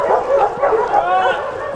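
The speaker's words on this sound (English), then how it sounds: "There's dogs over here, there's dogs over here, there's dogs over here." Several dogs bark and yip at an animal rescue in rural Kentucky, loud and close, in a rapid, overlapping run with whimpers mixed in.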